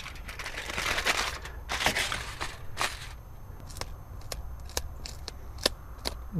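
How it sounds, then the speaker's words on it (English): A knife guts and descales a freshly caught mangrove snapper, making rough scraping and rasping strokes followed by a series of crisp, sharp flicks, close and moderately loud, with no voices. "Alright, well, I'm just gonna gut him and descale him."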